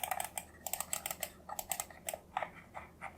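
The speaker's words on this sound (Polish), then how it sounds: "Tak więc klik jest przyjemny." Button clicks from a Keychron M5 Wireless vertical mouse, a quick series of soft, close, irregular taps with no voices.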